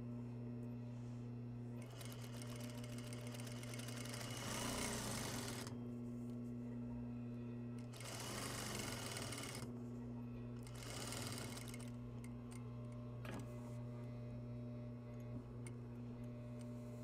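A sewing machine stitches a basic garment seam in several sustained runs separated by pauses, over a steady mains hum, with a voice talking quietly between bursts.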